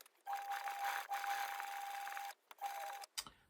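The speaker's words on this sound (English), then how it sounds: "and we sew that." A sewing machine stitches breeches facings at the bottom of the leg, a steady high whirring run for about two seconds, a short pause, then another burst and a brief clatter at the end.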